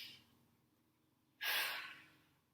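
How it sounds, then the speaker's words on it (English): One deep breath drawn in during a flute lesson's breathing exercise, a sudden airy rush that fades over about a second, close and clear with no talking. "everyone take a deep breath in with me"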